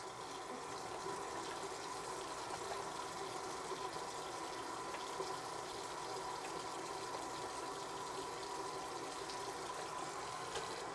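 Hands rinsed under a running tap, a steady faint gush of water hissing without a break for the whole stretch, no talking.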